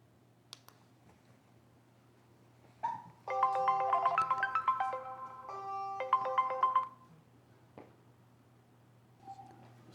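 A Dzees motion-tracking surveillance camera rings with an incoming call after its button is pressed, a few seconds of melodic electronic ringtone notes, preceded and followed by faint clicks in a quiet room.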